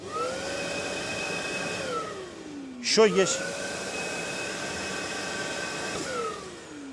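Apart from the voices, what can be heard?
DeWALT DWV905M corded vacuum cleaner running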